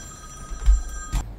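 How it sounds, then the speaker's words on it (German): A telephone ringing with a short electronic tone, steady harmonic pitch, brief and fairly clear with low rumbling background, no talking. "Und mein Telefon klingelt."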